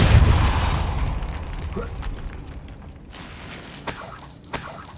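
A pushing Depulso spell fires in the Hogwarts Legacy video game, a heavy boom that fades into clattering mechanical debris and a few sharp pops.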